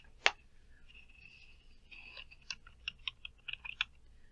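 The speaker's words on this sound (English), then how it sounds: "I would have to type in the password to do that." A password is typed on a computer keyboard: one sharp key hit, a pause, then a quick irregular run of close, crisp keystrokes over a quiet background.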